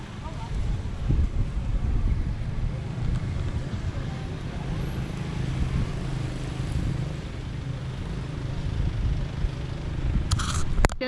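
Steady low wind rumble buffeting the microphone in Bali, with a brief brighter rustle near the end.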